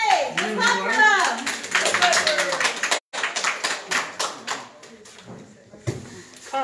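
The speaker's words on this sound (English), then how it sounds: "Let's clap for them!" Audience clapping for two competitors being brought up at a live event, scattered claps mixed with cheering voices and whoops, fairly loud and close, with a brief dropout midway before the clapping continues more thinly.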